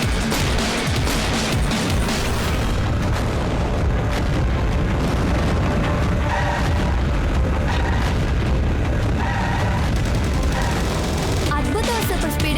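A cartoon bomb blast bursts in a kids' animated show, a loud, dense and continuous roar of explosive rumble and crackle that fills the whole stretch, ending with a brief chirping effect.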